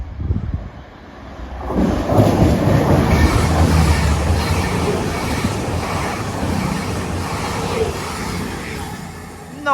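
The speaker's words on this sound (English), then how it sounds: "cross-country service from Bristol Temple Meads to Manchester Piccadilly" A CrossCountry passenger train from Bristol Temple Meads to Manchester Piccadilly roars past close by in North Staffordshire, a loud sustained rumble of wheels and carriages with rattling and faint squeal that stays heavy throughout.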